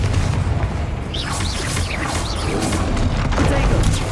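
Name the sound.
Bombarda and Confringo explosive spells in Hogwarts Legacy video game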